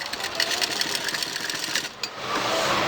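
A sewing machine stitches lace onto a shirt, running in a fast steady whir with rapid needle pulses that slow briefly near the end before carrying on, close and clear with no talk.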